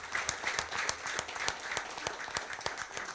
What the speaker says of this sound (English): a very big round of applause for all of them.